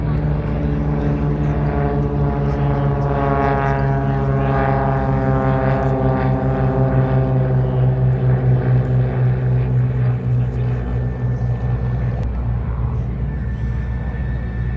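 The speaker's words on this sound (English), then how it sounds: "as our airplanes begin to get airborne, our second group is beginning to take the runway" Loud, steady droning of propeller airplane engines taking off at the EAA AirVenture Oshkosh airshow, with a rising, sustained hum, close by and continuous.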